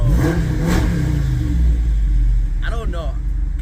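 A Jeep engine revs loudly with a deep, throaty custom exhaust rumble as people talk over it.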